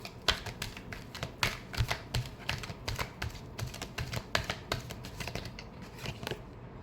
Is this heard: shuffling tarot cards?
yes